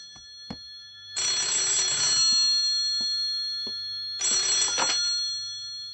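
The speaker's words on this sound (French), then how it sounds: "Je vais répondre au téléphone." A telephone at the Morisato residence rings twice, each bright electronic trill lasting about a second with a pause between, heard close and clear in an otherwise quiet room.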